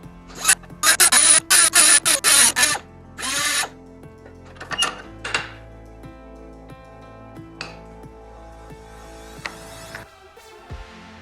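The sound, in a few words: power tool grinding back bolt thread in a plumbing-part rifle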